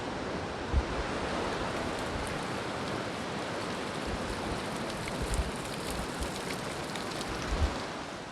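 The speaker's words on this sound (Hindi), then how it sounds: "ये है हिरनावती नदी, जो आगे चल के कल्प गंगा नाम से जानी जाती है।" The Hiranavati river rushes near Kalpeshwar Temple in Uttarakhand's Urgam Valley, a dense, steady roar of flowing water with a few faint knocks and no talk.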